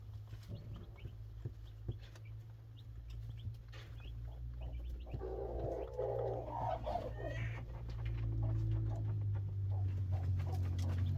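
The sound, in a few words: chickens in a coop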